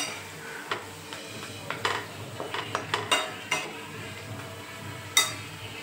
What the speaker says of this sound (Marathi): थोडीशी हळद, थोडासा गरम मसाला, मिक्स करून घ्यायचे।